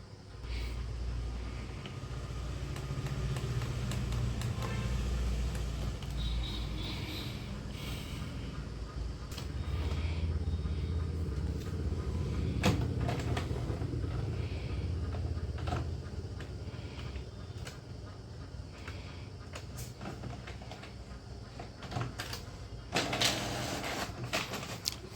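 An HP InkTank 316 inkjet printer feeding and printing a page after an E4 error fix: steady mechanical whirring and rumbling with creaks and clicks from the carriage and paper path, continuous and close throughout.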